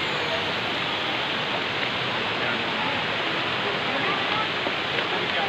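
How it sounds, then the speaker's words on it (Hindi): Sahastradhara waterfall rushing in a steady, loud, unbroken roar of falling water close by, dense white-noise hiss that stays constant throughout with no other sounds standing out. "देखो बहुत बढ़िया झरना आ रहा है।"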